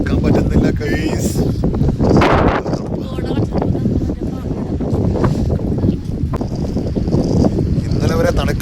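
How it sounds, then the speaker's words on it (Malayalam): Strong wind buffets a hilltop in Eravikulam National Park, a steady loud roar and rumble across the microphone, with people talking over it throughout. "ഇതിൻ്റെ ടോപ്പിലോട്ട് മുകളിലോട്ട് കയറുന്തോറും നല്ല കാറ്റും നല്ല തണുപ്പുമാണ് കേട്ടോ"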